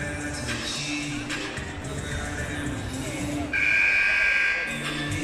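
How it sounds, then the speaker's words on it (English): A buzzer sounds at a high school basketball game, a sustained electronic tone rising over crowd noise and chatter near the end, with talk and gym ambience throughout. "Buzzer sounds."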